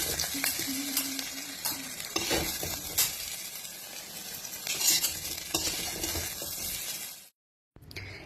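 Vegetables stir-fried with potato in a wok, sizzling steadily as a spatula scrapes and clinks against the pan in repeated strokes, close and continuous, ending in a brief silence.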